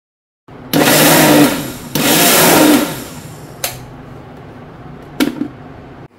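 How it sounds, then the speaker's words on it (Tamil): A mixer grinder whirs loudly grinding beetroot to a paste in two long bursts, then gives two brief pulses, close by with no talking. "இப்போ ரெண்டையுமே நம்ம மிக்ஸி ஜார்ல சேர்த்து நல்லா பேஸ்டா அரைச்சு எடுத்துக்கணும்"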